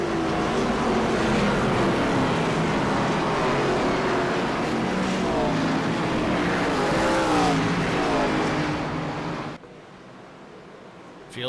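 Race cars roar together at Darlington Raceway as the IROC Challenge Series field takes the green flag, a dense sustained engine wall that stays loud before cutting away abruptly near the end.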